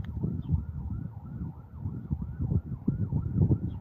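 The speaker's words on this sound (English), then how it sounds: "you guys hear that? That's sirens." Emergency vehicle siren wailing steadily in a rising and falling pattern, moderately loud over a constant low rumble of traffic.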